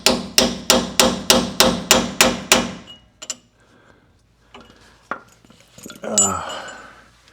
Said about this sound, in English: it's just chiseling up the metal on the thing